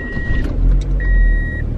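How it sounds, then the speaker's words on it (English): A car in snowy Texas weather struggles to start, with low engine cranking pulses rumbling twice, and electronic chime beeps sounding before and during the cranking. "I'm gonna record this just in case the freaking car doesn't want to start today"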